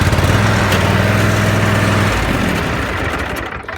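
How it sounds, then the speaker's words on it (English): A small engine on a parked machine, started with the choke on, runs loudly and unevenly up close, its rumble shifting and fading slightly toward the end. "you'll hear the engine run"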